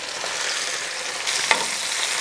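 Spinach frying and being stirred in a pan for a spinach and feta cheese tart, a steady close sizzle with one brief clink of the utensil, no talk.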